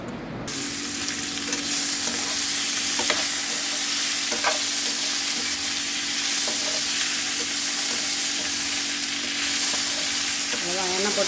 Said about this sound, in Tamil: எண்ணெய் போட்டு கடுகு போட்டு கருவேப்பிலை போட்டு பொட்டோட்டோ ஃப்ரை முடிஞ்சு போட்டு